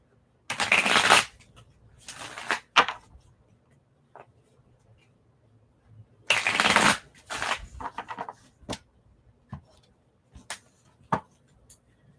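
Tarot cards being shuffled in two loud riffling bursts, each followed by scattered soft taps and snaps as cards are handled and laid down, close up with no talking.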